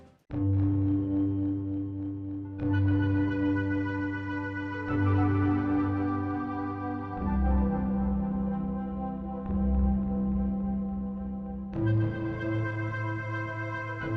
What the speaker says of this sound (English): why does the menu music of all things sound like this?